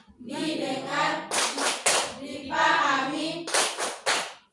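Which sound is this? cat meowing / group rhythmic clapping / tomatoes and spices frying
group rhythmic clapping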